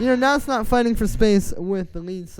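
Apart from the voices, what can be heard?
No everyday noise stands out behind the speech.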